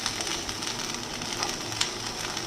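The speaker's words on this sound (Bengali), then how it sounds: "এবার এগুলোকে ভালো করে ভেজে নিতে হবে।" Baby corn frying in a pan for a Manchurian recipe, a steady close crackling sizzle with fine hiss running throughout.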